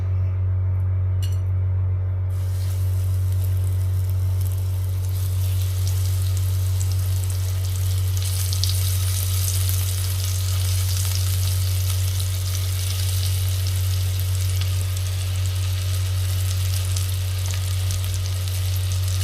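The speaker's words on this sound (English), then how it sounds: "And then to that I'm just going to add the pieces of liver." Pieces of lamb's liver frying in a hot pan with leftover bacon fat, a steady loud sizzle that runs unbroken throughout beneath a constant low electrical hum, with no talking.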